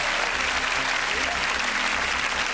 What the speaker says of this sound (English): Give yourself that applause.